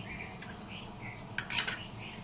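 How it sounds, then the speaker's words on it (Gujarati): A spoon clinks and taps against a pot while food colour is stirred into thickening sugar syrup for jalebi. A few close, light metallic knocks over a quiet background, with no voices. "અને મિક્સ કરી નાખીશું"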